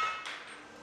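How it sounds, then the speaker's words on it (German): Two master blacksmiths hammer hot iron at the forge, upsetting a head onto a workpiece: one sharp, close metallic blow that rings and fades out. "Beim nächsten Arbeitsgang stauchen die beiden Schmiedemeister einen Kopf ans Werkstück."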